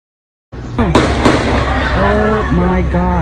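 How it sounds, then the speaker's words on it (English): Rapid gunfire crackles in an exchange of shots at a mass shooting, a dense continuous burst of sharp reports heard from a distance, with voices shouting over it. "Oh my God, they're all shooting back and forth."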